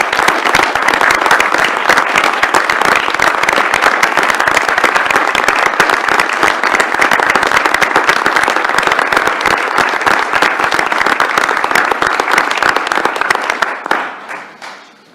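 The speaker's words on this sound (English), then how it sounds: "I'd ask that they'd stand so they could be recognized and applauded by the board" Board members at a university system regents meeting applaud working group members, a sustained, loud, even roar of clapping from a roomful of people that fades out in the final second.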